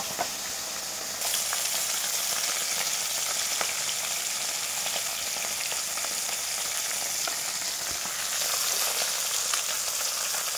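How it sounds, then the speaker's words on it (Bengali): Large bhola fish fry in hot oil in a pan, a steady bright sizzle that swells louder after a moment and carries on evenly, with occasional small pops and crackles. "আর এই কিছু মাছ ভাজা হচ্ছে"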